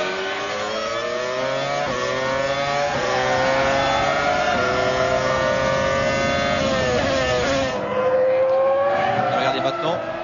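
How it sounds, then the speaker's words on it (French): Formula 1 race car engines at the 2003 United States Grand Prix, a high-pitched screaming wail rising and falling through gear changes, with commentary talking over it. "ça c'est le moteur de Button tout à l'heure"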